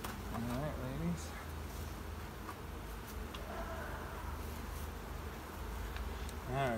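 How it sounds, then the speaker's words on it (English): Dense, continuous buzzing of a large mass of honey bees around a hive during beekeeping, loud and close throughout, with occasional voice faintly underneath. "it's a lot of bees"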